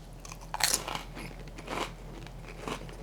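Someone bites into crunchy fita crackers topped with cucumber and feta, giving a few sharp, close crunches and crackles spaced across a few seconds over a quiet background hum, with no talk.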